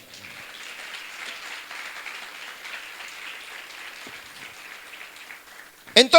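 A church congregation claps for several seconds in a steady, dense patter that fills the room, then a loud burst of sound closes the stretch.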